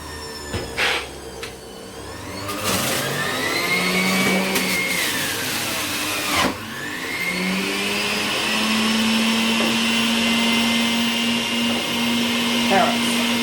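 A juicer grinding cucumber for a carrot, celery and cucumber juice, running as a loud steady motor whine with a rising tone that holds through to the end, with brief clatter at the start.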